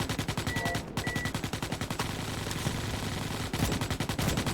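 Rapid automatic weapon fire in the shooter game Starship Troopers: Extermination, dense rhythmic bursts of close, loud gunshots rattling almost continuously with only brief pauses.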